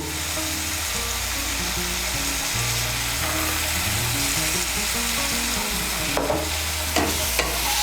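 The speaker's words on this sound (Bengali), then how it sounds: "মটরশুঁটিটাকেও মিশিয়ে নেব, মিশিয়ে নিয়ে মশলাটাকে ভালো করে কষিয়ে নেব।" Green peas are stirred into spiced cauliflower masala frying in a pan, giving a loud, steady sizzle with a low background hum and sharp scraping strokes of the spoon near the end.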